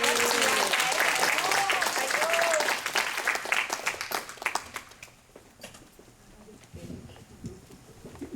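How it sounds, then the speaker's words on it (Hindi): Loud applause from an audience at a Guru Purnima celebration, dense clapping that fades after a few seconds into quieter room noise with some voices. "जोर से ताली के साथ"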